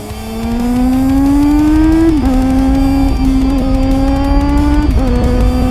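A Honda CBR 400RR's 400cc engine screams loudly at high revs, its pitch climbing steadily and then dipping briefly with quick gear changes, close and sustained.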